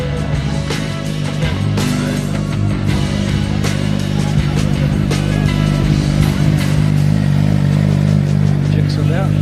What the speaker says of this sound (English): You still get kids running around in two-strokes here, which is fantastic.